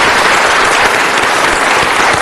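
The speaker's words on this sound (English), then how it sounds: "please join me in giving a big round of applause" An audience at a city council meeting claps in sustained, dense applause, loud and continuous throughout with no pause.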